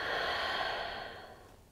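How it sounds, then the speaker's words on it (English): One deep exhale through the mouth during a morning yoga flow, a close, breathy whoosh that fades out gradually over about a second and a half. "taking a deep breath in and exhale through your mouth"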